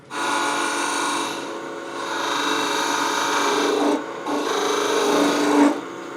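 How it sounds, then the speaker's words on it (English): Sandpaper rasps steadily against a wooden spinning top turning on a lathe, a loud, close, continuous scratchy hiss broken by two short pauses as the paper is lifted, with no voices. "Sandpaper."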